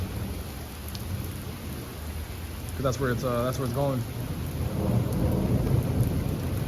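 Severe thunderstorm with strong winds: steady heavy rain and deep rolling thunder throughout, with a voice speaking briefly over the storm in the middle.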